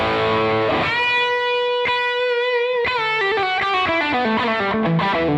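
A Les Paul electric guitar's bridge humbucker drives a Plexi amp into a thick, distorted tone with some reverb and delay, playing a loud, sustained chord followed by a run of ringing notes.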